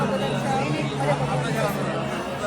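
Dense crowd chatter fills the grounds of the ISKCON temple in Kharghar, a steady babble of many voices close around with no single sound standing out.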